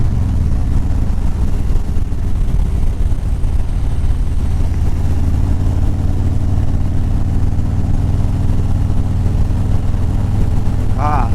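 A vehicle engine runs steadily before a ride, a continuous low rumble that holds loud and close throughout.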